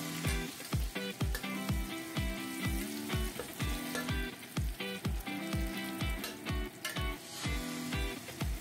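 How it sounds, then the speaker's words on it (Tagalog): Garlic sautés with meat in a pan for guisadong repolyo, giving a steady, close sizzle. A spatula scrapes and stirs in a regular rhythm throughout. "Og karon ato nang butang ang atong garlic. Atong gisa kauban sa karni para malasa ang atong gisadong repulyo."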